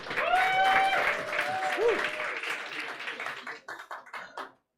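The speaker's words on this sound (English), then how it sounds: "another round of applause for Tom McHill" Audience applause and clapping for a competitor at a regional cocktail challenge final, sustained at first and then thinning into scattered claps before stopping, with a voice and some tonal sounds heard over the start.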